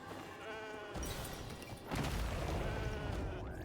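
A goat in the Genshin Impact video game gives a wavering, nasal bleat, followed by a loud impact rumble and a rising bleat near the end, all set over steady game ambience.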